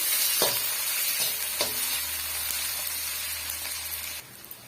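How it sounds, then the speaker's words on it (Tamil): A tempering with curry leaves for rava tiffin fries on medium flame, an even close crackle and sizzle with several knocks of a spoon stirring, the sound dropping off near the end. "சேர்த்துட்டு மிதமான தீயில நல்லா வந்து வறுத்து எடுத்துக்கலாம்"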